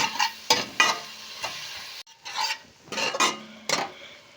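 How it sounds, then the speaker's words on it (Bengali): Turmeric, cumin, coriander and Kashmiri chilli powders fry in oil for egg tadka, with a soft sizzle under bursts of spatula scraping against the pan. Brief pauses fall between the stirring strokes. "মশলাটাকে ভাজবো"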